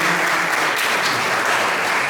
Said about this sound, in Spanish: vamos a dar un aplauso a ella.